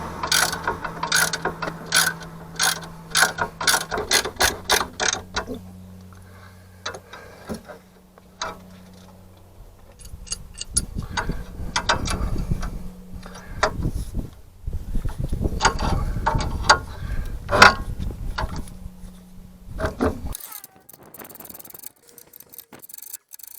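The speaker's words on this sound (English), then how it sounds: "Slowly release pressure from spring clamps." Spring compressor clamps are slowly released on a Land Rover Discovery 2 coil spring during a Terrafirma 2-inch lift kit install, giving repeated ratcheting clicks and metallic clanks, close and irregular, with quieter pauses between bursts.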